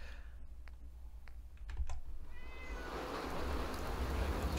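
Cat meows in Fallout 4, several short mewing calls among sharp clicks early on, then a steady hiss of rain-like ambience takes over; no talking.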